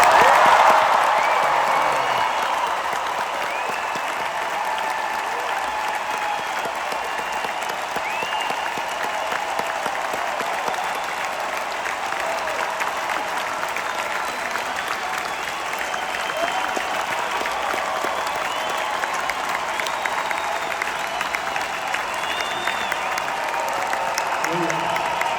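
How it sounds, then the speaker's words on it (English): A concert crowd applauds continuously and loudly, with dense clapping that swells at first and then holds steady, plus some cheering. "Let's hear it for John"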